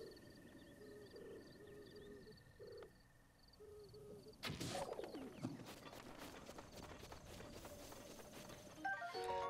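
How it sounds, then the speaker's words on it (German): Birds in Zelda: Breath of the Wild, heard as soft cooing and chirping calls over a steady outdoor ambience, followed by busier rustling and bird activity in the second half. "Ah, Vögel."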